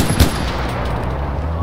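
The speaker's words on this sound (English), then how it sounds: "I'm on the heavy MG." Heavy machine gun fire in the Far Cry 4 video game, a dense continuous rattle of rapid shots at steady loudness, close and unbroken through the short moment.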